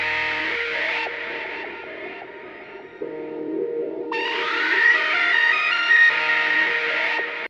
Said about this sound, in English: the first thing I added was this like lead grunge type of lead